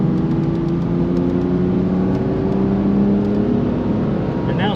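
A car pulling hard out of a corner at Silverstone circuit, its engine droning steadily and rising in pitch throughout, close and loud inside the cabin with no voices.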